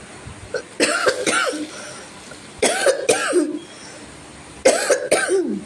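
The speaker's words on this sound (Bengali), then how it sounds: "এত কাশি হচ্ছে দেখুন" Three separate bursts of harsh coughing in a home kitchen while cooking, each burst a cluster of two or three close, loud coughs with quiet gaps between them.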